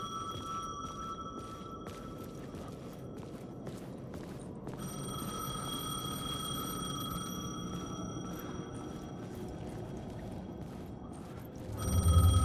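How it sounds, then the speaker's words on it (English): A payphone ringing in the video game Alan Wake 2, repeated electronic rings in steady bursts that carry on alone for several seconds, with a rise in other noise at the end. "The payphone was ringing."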